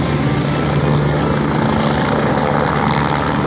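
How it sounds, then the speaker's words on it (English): Chuck Aaron's Red Bull helicopter performs at the Camarillo air show, its rotor and engine roaring loudly and continuously overhead with a steady thumping chop on a breezy day. "That's Chuck Aaron, folks, the Red Bull helicopter"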